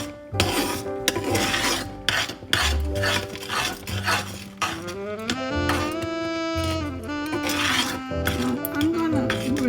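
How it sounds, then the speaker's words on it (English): Candy mixture being stirred in a pot on the stove while it comes to a boil, with a spoon scraping against the pot's sides in steady, busy clinks and rasps that continue for the whole stretch, and a tonal background over it. "So keep stirring it and make sure you scrape the side of the pot."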